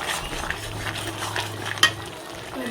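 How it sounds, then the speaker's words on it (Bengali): Mixed vegetable curry simmers in a pan, giving a steady soft bubbling and sizzling with a low hum and one small clink near the end. No voices. "তরকারিটা ফুটে উঠেছে"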